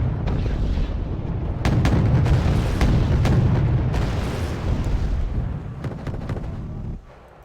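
Booming blasts and crackling pops in the strategy game Wargame: Red Dragon as a destroyed tank explodes, a rumbling barrage of repeated explosions with sharp bursts that fades out abruptly near the end.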